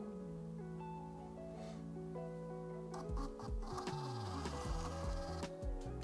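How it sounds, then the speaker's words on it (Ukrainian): A small Bluetooth printer attached to a ProSpector 2 analyzer prints out a slip of analysis results, whirring and ticking with busy mechanical feed noises that grow louder and more rattly partway through. "з нашого принтера у нас вилізла отака от роздруківочка з результатами нашого аналізу"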